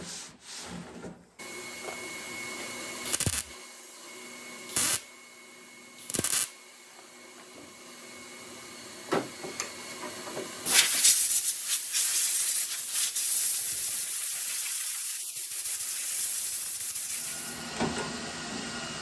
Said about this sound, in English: I'll cool it down with some air